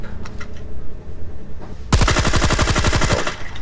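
Rapid automatic gunfire from Call of Duty Mobile bursts in suddenly halfway through, a dense, evenly spaced stream of loud shots lasting just over a second after a quieter stretch of game ambience.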